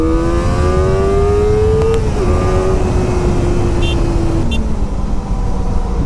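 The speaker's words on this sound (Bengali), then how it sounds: "তাও ইনলাইন ফোরের সাউন্ড ভাই অসাধারণ" A 2024 Kawasaki Ninja ZX-4R inline-four motorcycle engine revs loud and close, its smooth whine climbing steadily, dipping briefly, then holding a high pitch before easing off slightly.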